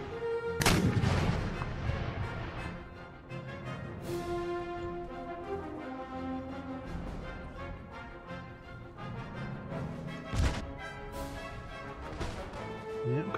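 Artillery cannons firing in the Empire Total War strategy game, with several heavy booms spread across the stretch. The loudest blasts land early and near the middle, over continuous battle music and ambience, and a voice speaks faintly underneath.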